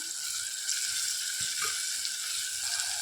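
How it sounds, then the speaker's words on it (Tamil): Tomatoes and garlic with a pinch of asafoetida sauté in a pan for pepper rasam, giving a soft, steady, close frying hiss that carries on without pause. "இப்போ பார்த்திங்கன்னா தக்காளி பூண்டெல்லாம் நல்லா வதங்கி வந்துடுச்சு."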